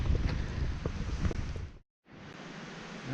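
Steady wind roars and buffets the microphone on a forest path near Betws-y-Coed, cutting out briefly partway through before gusting on again.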